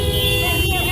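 A car horn honks steadily at a street protest, a sustained loud tone held for the full second over a noisy crowd background.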